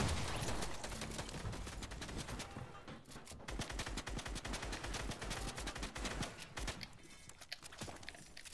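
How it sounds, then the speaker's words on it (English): Dense video game gunfire with rapid automatic bursts and scattered single shots, loud and continuous throughout with only a brief lull, in a chaotic multiplayer firefight. "I'm getting shot from everywhere."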